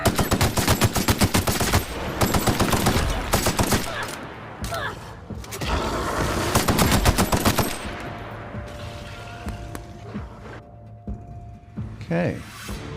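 Gunfire in the game The Outer Worlds, with dense bursts of rapid automatic shots in the first half that thin to scattered single shots and clatter later on, and no talking.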